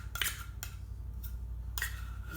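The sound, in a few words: spoon scraping sticky sun butter out of a pan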